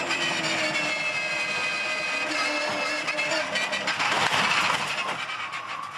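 A Supercars Championship race car's engine howls at high revs on track, a loud continuous tonal roar that swells and wavers as the car passes, with trackside noise mixed in and no speech.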